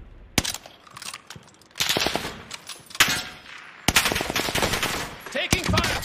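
Gunfire in the Call of Duty Warzone video game, with loud machine-gun bursts and single sharp shots in irregular clusters, some near and some more distant.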